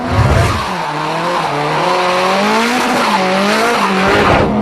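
Drifting cars with tires squealing, a loud, close, wavering screech that rises and falls continuously while engines roar underneath.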